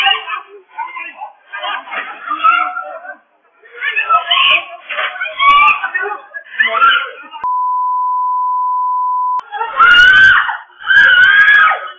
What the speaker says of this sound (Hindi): युवती लगातार चीख रही है